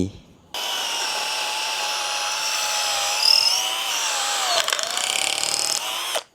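A 12 V DCA cordless drill whines steadily at high speed for several seconds, its pitch sagging briefly near the end as the bit bites into wood.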